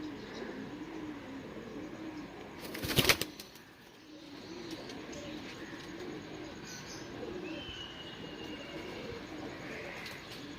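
Soft, low pigeon coos repeat under a steady outdoor hum, broken once by a sharp burst like wings or a clatter.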